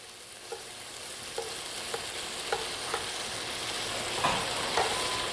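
Food frying steadily in a pan, a constant sizzle with several sharp clicks and taps as long grilling tongs flip the pieces over, close and without speech.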